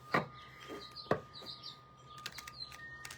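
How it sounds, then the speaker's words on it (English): Small red finches chirp in a few sharp, separated bursts with thin high twitters between them, fairly close and fading to soft calls toward the end. "Such pretty little red birds,"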